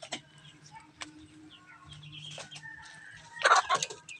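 Rhode Island Red layer hens in a pen give soft clucks and coos, with a louder burst of squawking calls near the end over low background murmur.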